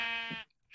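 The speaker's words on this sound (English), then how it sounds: "Ooh, sheep." A single sheep bleat in the video game Minecraft, a short wavering cry, close and alone, followed by silence.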